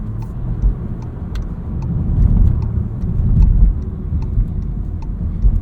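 A 2023 Volkswagen Jetta Sport with a 1.5 turbo engine and six-speed manual gearbox hums as it drives on rough Michigan roads, a steady low engine and road rumble that swells and eases.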